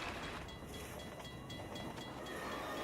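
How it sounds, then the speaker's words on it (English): A train rumbles past in the video game Half-Life 2, a dense, steady roar of rolling wheels and rattling cars filling the whole short stretch at constant loudness, with no voices. "Train."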